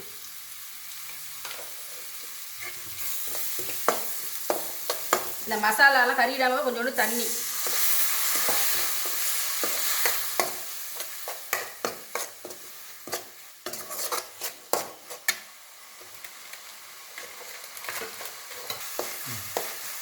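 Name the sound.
sautéing masala in a pan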